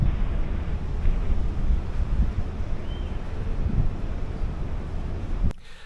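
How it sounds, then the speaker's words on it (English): Strong wind on the deck of a rocking cruise ship at sea buffets the microphone in a constant low roar, with a faint wash of water beneath, cutting off abruptly near the end. "It is so windy."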